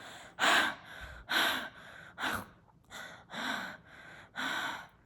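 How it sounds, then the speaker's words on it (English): Heavy, rhythmic panting close to the microphone, six or seven sharp gasping breaths in quick succession with brief pauses between. "That's what I want you to do."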